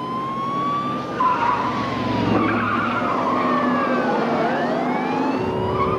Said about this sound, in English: He sped off from the traffic stop.